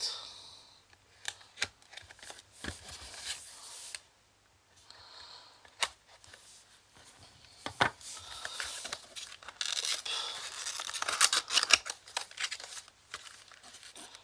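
Final Fantasy TCG FFVII starter deck packaging being opened, with irregular bursts of crinkling and tearing plastic and cardboard, close up, rising to a denser rustling stretch near the end.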